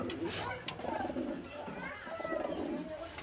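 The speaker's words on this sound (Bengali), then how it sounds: "এই যে ফ্রেন্ডস আরেকটা পেয়ার দেখুন খুব সুন্দর কোয়ালিটির কোয়ালিটির পায়রা আছে আমাদের কাছে" Pigeons at a pigeon sale in Beldanga softly cooing in low, rolling calls, heard close and moderately quiet beneath someone talking over them.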